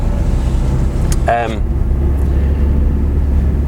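A Peugeot 308 with a 1.6 diesel and six-speed gearbox pulls away, heard from inside the closed cabin as a steady low rumble throughout, with a brief voice-like sound near the start.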